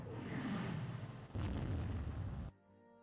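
Heavy naval guns from warships in the Rule the Waves II naval combat game boom in two long, loud rumbling bursts, the second striking harder, before cutting off abruptly into near silence.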